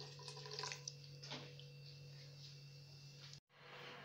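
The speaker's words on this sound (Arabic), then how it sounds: "غادي نمرقو تقريبا بواحد لتر ديال الماء" About a liter of water poured into a pot while cooking rice-and-kofta stuffed chicken, a steady close splashing stream that runs for several seconds before stopping abruptly, then a faint room hiss.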